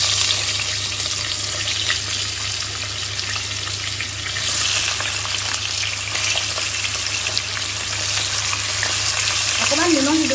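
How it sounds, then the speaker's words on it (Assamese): Pointed gourd and potato pieces fry in hot oil with a steady, dense sizzle that holds throughout, broken by a few soft stirring and clinking sounds near the end. "পটল আৰু আলুখিনি এটা হাফ ফ্ৰাই কৰি ল'ম।"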